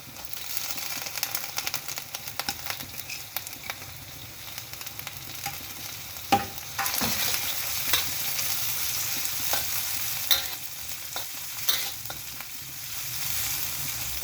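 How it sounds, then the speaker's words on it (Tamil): Crushed garlic and anchovies sauté in a pan with a continuous close sizzle, broken by frequent spatula scrapes and taps as they are stirred. "நல்லா வதக்கிக்குங்க"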